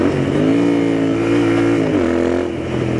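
Loud, close revving of a Royal Enfield Interceptor 650 engine, holding a steady high pitch before dropping back briefly and continuing at a lower rumble, with no speech.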